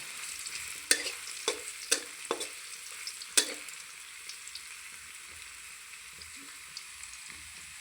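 Potatoes fry in a pan with a thin, steady sizzle, punctuated by a handful of crisp spatula knocks in the first few seconds before settling into quieter frying.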